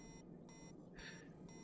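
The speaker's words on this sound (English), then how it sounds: "This is an alarm." Alarm alert from the factory-building game Factorio, a short electronic beeping tone pulsing on and off a few times at low level, with no talking.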